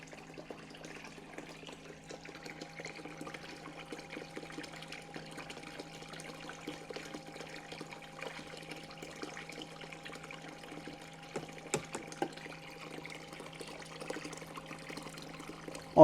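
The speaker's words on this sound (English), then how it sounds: "Oh yeah, sluice is running awesome." Water runs steadily through a gold sluice fed with paydirt, a faint continuous trickling wash with a few small knocks near the end.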